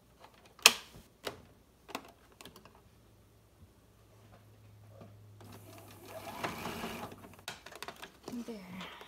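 A sewing machine stitches a small triangular fabric coin pouch, running a short tack stitch: light ticks and a quiet steady whir that builds into a busier, louder run toward the end.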